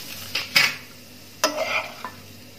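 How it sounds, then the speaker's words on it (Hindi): A spoon stirs ivy gourd (kundru) curry with fresh coriander in a pan on a gas stove, making two short scraping, clattering strokes against the metal with faint quiet between them. "अब इन्हें अच्छे से मिक्स करेंगे।"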